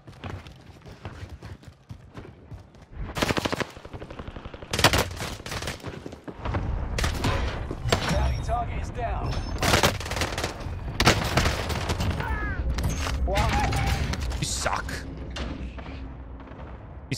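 Gunfire on Rebirth Island in Vanguard Warzone comes in sharp, loud bursts of automatic fire and single shots, scattered irregularly across the clip over a busy game background.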